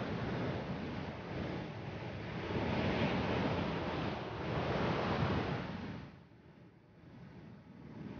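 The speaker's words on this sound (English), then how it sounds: "The powerful waves rise far out of the Atlantic and crash down on the Namibian coastline." Powerful Atlantic rollers crash continuously onto the Namibian Skeleton Coast, a loud, dense roar of surf with wind noise, swelling and ebbing as each wave breaks, then easing briefly before building again.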